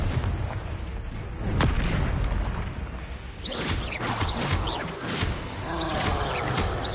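In the Hogwarts Legacy video game on PS4, a Confringo fire spell bursts with a booming explosive impact amid a dense, continuous crackle of battle effects and rumbling noise.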